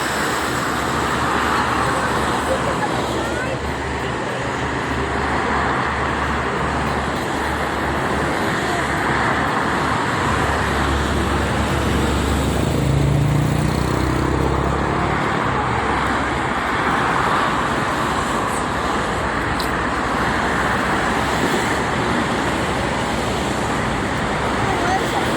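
Cars and trucks stream along the Jakarta-Cikampek toll road on a holiday, making a steady, dense roadway roar that holds for the whole stretch, with a low rumble of heavy vehicles underneath.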